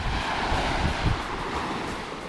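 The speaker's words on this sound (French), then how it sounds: "On a la plage pour nous tout seul." Surf rolls steadily onto a deserted Greek beach, a continuous broadband wash with some wind rumble and no distinct breaks.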